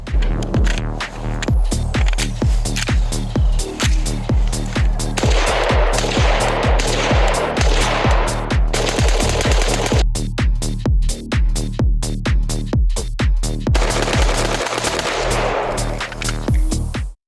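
Rapid automatic AK-47 rifle fire rattles in long, loud, continuous bursts with brief pauses between volleys.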